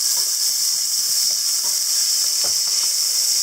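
Onions and minced garlic sauté in a soup pot for sweet potato and pumpkin soup, a loud, constant close sizzle with faint scattered pops and stirring scrapes.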